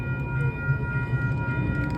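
A train passes on College Street in uptown Charlotte, North Carolina, a steady low rumble with faint sustained tonal whine, heard nearby for the whole stretch without any talk.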